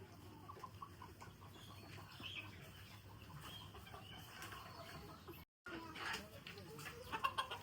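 Caged hens on a poultry farm cluck faintly in the background over a steady low noise, with a brief dropout midway and a few sharper clucks near the end.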